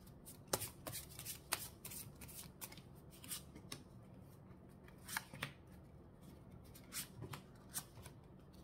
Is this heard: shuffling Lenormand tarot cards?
yes